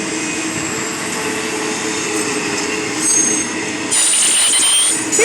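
A CP locomotive-hauled train rolls past on the NS Chicago line in Elkhart, Indiana, a steady rumbling roar that swells near the end as the wheels squeal on the rails.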